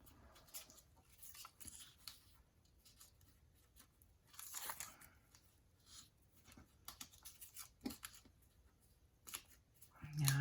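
Paper strip being folded over and over for making mini journals, soft crinkles and creases close by at low volume, in a quiet room.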